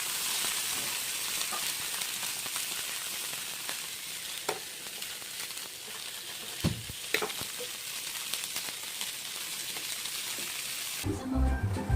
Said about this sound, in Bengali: এখন কড়াইতে ঘি দিয়ে সর্ষে ফোড়ন দিয়ে কারি পাতা দিয়ে